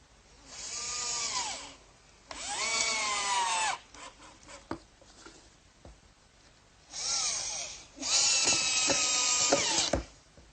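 A power drill drives screws into wooden workbench pieces, glued and pre-drilled with countersinks: several separate whirring bursts with rising and falling motor pitch, each lasting a second or two, with quiet pauses between and no talking.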